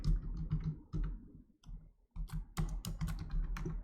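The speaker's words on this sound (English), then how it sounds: "I'm going to type already registered" Computer keyboard being typed on at a desk: quick bursts of crisp, close key clicks with a brief pause in the middle, no talking.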